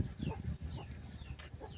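Hens cluck in short, repeated bursts close by, a busy overlapping run of calls from farmyard fowl with no voices.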